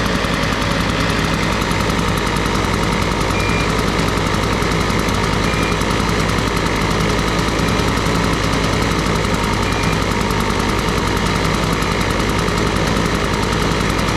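Gas-powered leaf blower running in a garage, a loud, steady, close engine drone with a constant rattling hum and no pauses for the whole stretch.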